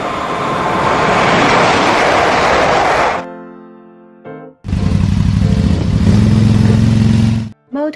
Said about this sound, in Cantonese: Motorcycle 電單車。